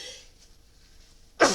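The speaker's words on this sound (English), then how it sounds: "I'm going to sneeze again." A single sudden human sneeze bursts out at the very end after a near-silent pause, loud and close.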